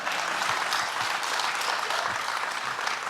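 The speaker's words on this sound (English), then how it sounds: "This is where you clap again" Conference audience applauding at an African blockchain event, a steady dense wash of clapping filling the hall throughout, fairly loud and continuous with no voices over it.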